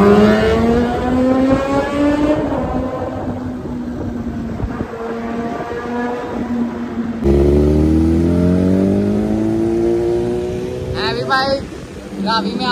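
Heavy motorcycles revving during a race-scene shoot against cars, heard as harmonic engine whines rising and falling in pitch, with a louder, deeper rev partway through and wind noise around them.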